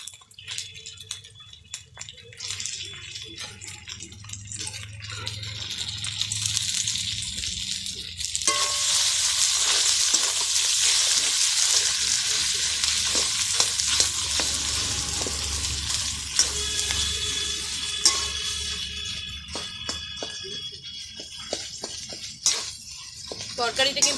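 Mashed potato is stir-fried with cooked spice masala in a pan for potato chops. A low sizzle swells into a steadier crackling fry partway through, broken by scraping stirs, with a voice at times.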